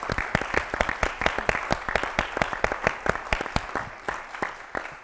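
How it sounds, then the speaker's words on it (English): A crowd gives a round of applause for team members called to the front at a university event, many hands clapping loudly and steadily in a quick, even rhythm that fades slightly near the end. "Come on up, guys, and take a round of applause"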